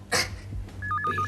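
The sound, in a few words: telephone ringing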